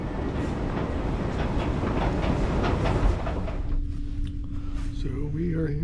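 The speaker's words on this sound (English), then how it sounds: "this train is like so nice that I thought it was like a luxury train" A passenger train running on rails in the Netherlands near Amsterdam, giving a steady loud rumble with rhythmic clicks over the track joints that eases into a quieter hum with a faint tonal whine at the end.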